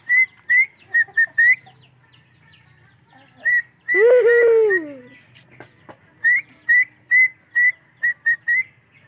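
A bodots bird sings in short repeated whistled chirps at a steady rhythm, close and clear, broken midway by a longer falling warble-like call before the chirps resume.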